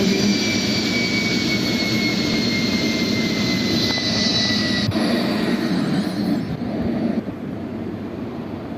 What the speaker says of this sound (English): We are going to take off from runway 34 again.